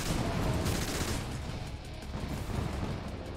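Rapid gunfire from the first-person shooter Mothergunship on its gun-crafting test range, a dense continuous rattle of shots with bursts and booms filling the whole stretch, loud and steady with no talking over it.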